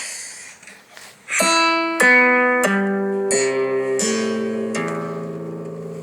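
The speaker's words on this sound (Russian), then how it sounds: "Нашел интересный строй для гитары." Guitar strings plucked one after another ring out into an open, unusual-sounding chord, the notes building up and sustaining clearly with no voices.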